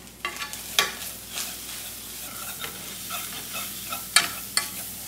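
Flour stirred into gravy in a frying pan, soft steady sizzling with intermittent scraping clicks of a utensil against the pan, fairly close and quiet.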